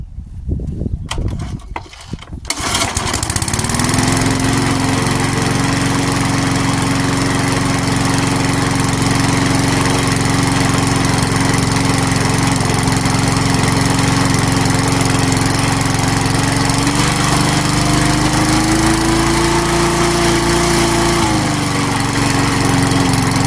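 A petrol grass trimmer's engine starts after a sputtering pull and then runs steadily and loudly at a fast idle, with a slight rise in pitch near the end; no talking.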